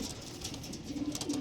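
Tall, long-bodied pigeon in a loft giving a low, soft coo, faint and brief against steady background noise.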